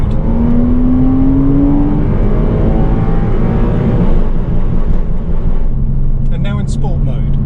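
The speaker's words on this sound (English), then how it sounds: "I'll now hit the limiter in second in both of those modes. So this is not sport mode." A Porsche Cayman 987 engine revs hard and bounces on the rev limiter in second gear, loud and close, with a steady droning stutter that fades toward the end as a voice begins speaking.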